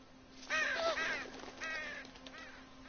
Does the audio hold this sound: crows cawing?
yes